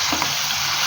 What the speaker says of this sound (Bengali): ধীরে ধীরে ভাজবো।